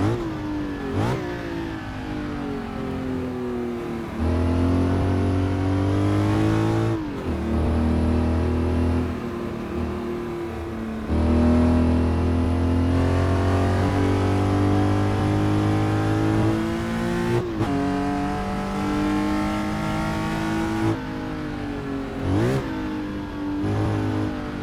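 A Porsche 910/6 race car in a racing sim at Eifel-Ardennes 1967 revs hard through repeated gear changes. The loud, rasping engine note climbs, drops at each shift and climbs again, close and alone with no talk.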